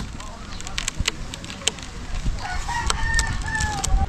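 A rooster crows in the open air, its drawn-out call rising and holding for over a second near the end, moderately loud above a rough bed of outdoor noise and faint background voices.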